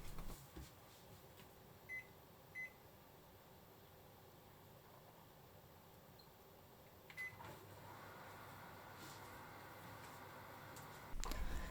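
A microwave oven running at 600 watts, heating chicken tenderloins on a microwave-safe dish covered with plastic wrap, gives a steady low hum with faint fan noise. A few short beeps sound early on, and the hum changes partway through.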